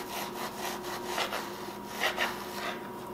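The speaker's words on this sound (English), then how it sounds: "When you're cutting your steak up for your jerky, it's better if it's partially frozen." A knife slicing partially frozen steak into thin jerky strips, making soft rasping strokes in quick succession. Quiet and close, with a faint hum in the background.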